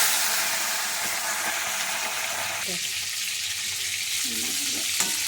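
Rui fish pieces fry in hot oil with a loud, steady hiss and crackle, the spitting dropping slightly in level partway through, with faint background sounds beneath.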